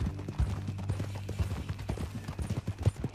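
Horse hooves clip-clop at a steady riding pace in the video game Red Dead Redemption II. The hoofbeats are fairly soft and close over a low ambient game soundscape.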